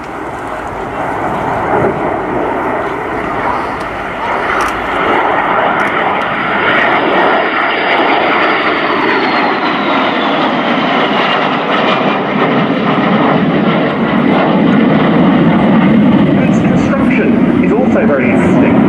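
A de Havilland Vampire jet with its de Havilland Goblin engine, flown by the Norwegian Air Force Historical Squadron at an air show: a loud, sustained roar and whine that swells and shifts in pitch as it passes, building near the end.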